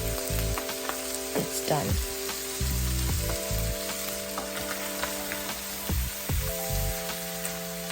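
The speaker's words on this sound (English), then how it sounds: "Mix the tomatoes with the ground beef and cook until" Tomatoes and ground beef frying in a pan for a potato moussaka, with steady sizzling and occasional stirring throughout, and a brief spoken line near the end.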